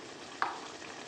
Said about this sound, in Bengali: সামান্য একটু জল দিয়ে আবার একটু কষিয়ে নিচ্ছি।